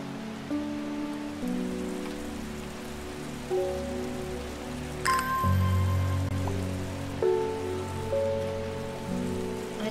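Gentle rainfall in the video game Strange Horticulture keeps up an even, soft patter for the whole stretch, layered under quiet sustained music tones with one brighter chime midway.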